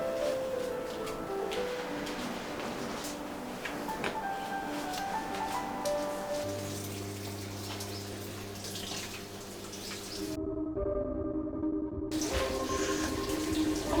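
Clothes being washed by hand with water at home, with steady splashing and running water throughout, a tonal hum entering midway and the sound briefly thinning near the end, no talk.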